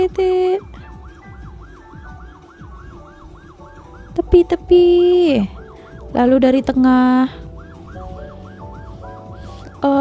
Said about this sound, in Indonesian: Apalagi kalau mereka itu pasang sirine macam itu